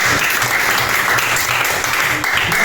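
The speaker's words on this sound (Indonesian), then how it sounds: "Tepuk tangan dulu dong." Audience applause from a class of students at an Islamic junior high school, steady dense clapping filling the whole moment without speech.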